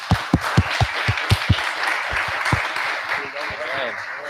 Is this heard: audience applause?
yes